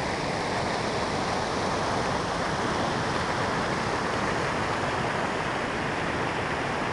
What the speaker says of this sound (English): So this is Saddleback Falls on Saddleback Brook.